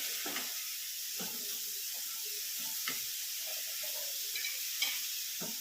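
Washed breadfruit pieces are mixed in a pan over a soft continuous sizzle, with a handful of scattered spoon scrapes and knocks, quiet and close.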